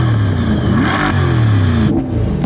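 A Corvette engine revving close up, a loud rising and falling throaty roar in quick surges over a couple of seconds.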